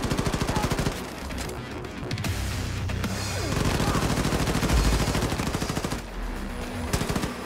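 Sustained rapid automatic gunfire from the shooter game Wolfenstein: The New Colossus: loud, dense bursts fire continuously with brief pauses, layered with game action noise.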